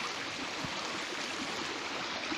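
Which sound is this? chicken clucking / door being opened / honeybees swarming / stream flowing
stream flowing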